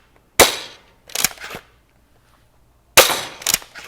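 A multi-tool foam dart blaster from DoughtinatorDesigns fires in sharp, close bursts: a loud snap at the start, another about a second later, then a pause before a fresh loud pair of shots, each pop cracking hard and fading fast.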